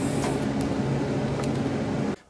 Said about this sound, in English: I'll go ahead and finish welding it up